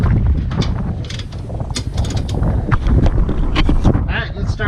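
Metallic ratcheting and wrench clicks from removing bolts on a 1994–2001 Acura Integra rear coilover, continuous and close, with background noise and some speech.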